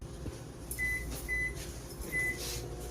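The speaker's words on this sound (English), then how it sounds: "Okay, so I am microwaving my corn" A microwave oven hums steadily while heating corn in a bowl, with three short electronic beeps sounding in quick succession over the continuous drone.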